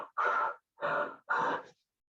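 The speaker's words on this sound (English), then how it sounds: "So do some heavy breathing, watch it go in and out." Three heavy, forceful breaths, each about half a second long with short pauses between them, come from someone wearing a face mask during a fit check, close and loud with no talk.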